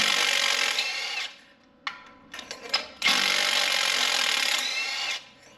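A power tool breaking the spark plugs loose on a Toyota engine during a 100k maintenance, with two loud sustained whirring bursts that bracket a short pause full of sharp clicks and clatters, all heard close up.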